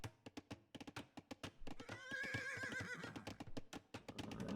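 A horse neighs in an Age of Empires match, a loud whinny rising over a steady patter of clicks and game sounds.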